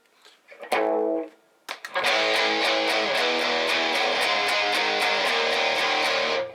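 A heavily distorted electric guitar rings out a chord, pauses, then chugs steady repeated power chords in an even rhythm, loud and close.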